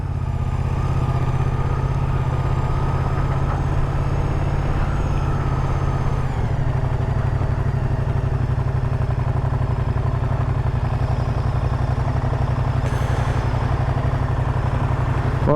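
A 2025 Moto Guzzi Stelvio's transverse V-twin engine runs steadily up close, with a deep, throbbing, pulsing idle that shifts tone slightly partway through and continues unbroken.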